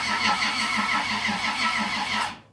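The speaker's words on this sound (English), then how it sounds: "Let's just see if it cranks." An old used starter cranks a 2JZ engine swapped into a 1978 Datsun 280z. It gives a loud, rhythmic, pulsing churn for about two seconds and then cuts off abruptly.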